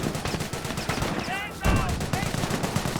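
Gunfire rattles through a battle in Company of Heroes, with dense overlapping rifle and machine-gun bursts and explosions under a constant din of combat.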